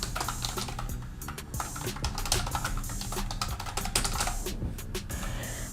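Fast, steady typing on a computer keyboard while an email address is entered, a dense run of close, crisp key clicks with no pauses and no voices.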